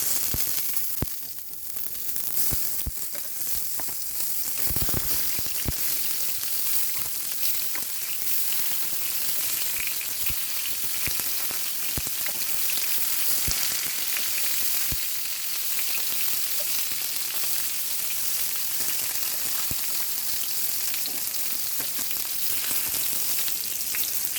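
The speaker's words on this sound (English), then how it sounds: "While the onions are frying" Onions frying in a pan for mole give a constant crackling sizzle with occasional pops and clicks, steady throughout with no talking.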